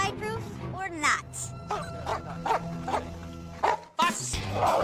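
A dog barks and growls repeatedly in short bursts close by, with rustling and a person's voice mixed in.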